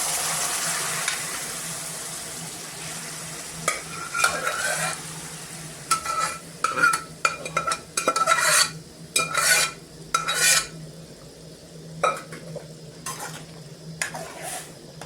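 Chana dal stirred into a hot pan with coriander and chili powder for a spinach dal, giving a steady sizzle broken by repeated scraping spoon strokes that come in bursts toward the middle.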